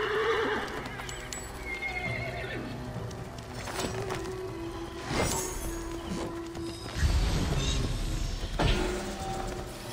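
A horse whinnies loudly several times amid clip-clopping hooves and ambient noise in Assassin's Creed Origins, with sharp neighs recurring across the stretch.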